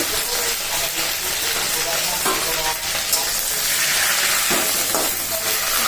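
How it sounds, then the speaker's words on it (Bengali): Half a spoon of mustard seeds sputters in hot oil for curry leaf rice, a loud, dense crackling sizzle that holds steady and close throughout. "সরষে ফোড়ন দিয়ে দিলাম একটু হাফ চামচ মতো"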